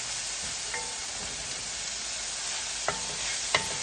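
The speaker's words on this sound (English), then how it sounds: "as the onions are cooking, it'll start releasing liquid" Onions sizzle in a pot as the base for an oxtail gravy, a soft steady frying hiss up close with a couple of brief utensil clicks near the end.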